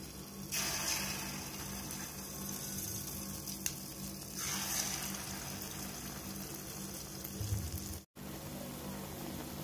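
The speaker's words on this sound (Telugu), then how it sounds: "ఇప్పుడు ఆయిల్ వేడైంది, దీంట్లో కొంచెం కొంచెం పిండి ఇలా ముద్దలా వేసుకుందాం." Small lumps of wheat-flour and jaggery bonda batter drop into hot oil, each bursting into a loud hiss that settles into a continuous steady sizzle, heard close with no talking.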